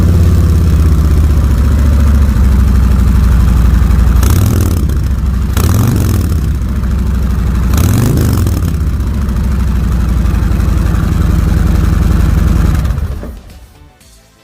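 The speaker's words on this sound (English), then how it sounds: "Cold start." A 2022 Harley-Davidson Road King Special 114 motorcycle cold starts and idles loud and close, a deep steady rumble swelling with a few throttle blips before cutting off at the end.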